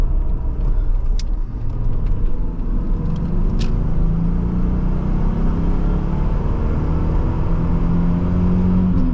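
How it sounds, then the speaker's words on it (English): A 1985 Nissan 300ZX engine in 3rd gear pulls to red line with a steady loud rumbling drone as the pitch slowly rises. A couple of faint clicks sit over it and nobody talks. "Pulls all the way to red line, 3rd gear"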